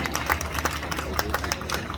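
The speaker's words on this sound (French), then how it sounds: "applaudissez-la aussi" An audience applauds a candidate at a vintage pin-up contest, brisk individual claps ringing out close and uneven over a low background murmur.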